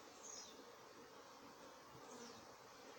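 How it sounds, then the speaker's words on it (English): Bees drifting over from a neighbouring colony buzz steadily and faintly, a soft continuous drone with no voices. "those bees came from an adjacent colony and drift over here"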